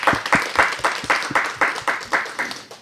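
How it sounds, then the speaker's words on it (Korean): Sparse applause for guests at an Asian music network forum: a small group clapping in a slow, fairly even rhythm of distinct claps, close and moderately loud, with no talk over it. "조은하고 슈도 씨한테도 박수 좀 부탁드리겠습니다"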